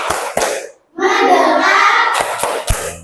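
A school class does a rhythmic focus clap: two sharp claps, then the children chant together in unison, then three more crisp claps in a quick pattern, all close and loud.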